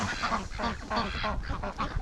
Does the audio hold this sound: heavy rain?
no